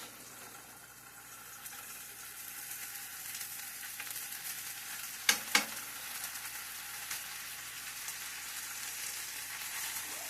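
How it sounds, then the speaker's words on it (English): Pancakes and sausage fry on a home stove with a steady, soft sizzle, broken by two sharp clicks of a utensil midway. "Got pancakes on the stove"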